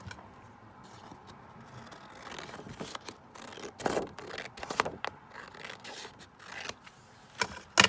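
Scissors cutting through card, a few quiet snips and rustles of handled paper that grow into sharper cuts and scrapes, close by, no talking.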